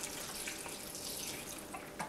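Steady running water, like liquid being poured or flowing from a tap, continuous and close with no talking.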